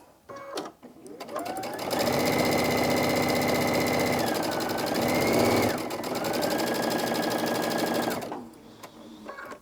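A sewing machine stitches a quarter-inch seam on a half square triangle quilt block, speeding up into a loud, steady close whir that briefly shifts pitch midway and stops near the end, with a few handling clicks at each end.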